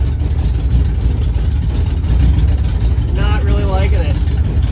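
A 1968 Ford Mustang brought back after three decades in storage, running with the accelerator floored: a steady, loud, low engine drone throughout, with someone speaking briefly over it.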